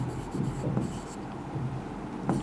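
Chalk or marker scratches across a classroom board in short strokes during a maths lesson, faint and close, with brief scraping bursts and little else.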